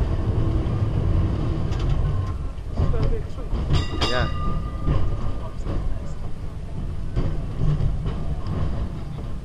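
A train rumbles along continuously at Beamish museum with a heavy low roar and rattling clatter, loud and close, with a brief squeal near the middle and some voices underneath.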